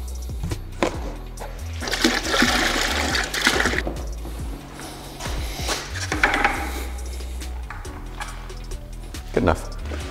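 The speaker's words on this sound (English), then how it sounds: "I'll just fill it back up with water, then dump the water in there." Water runs and splashes into a bucket being refilled during a car radiator coolant job, a gushing, sloshing stream with a few knocks and clunks of the container, nearby and fairly loud.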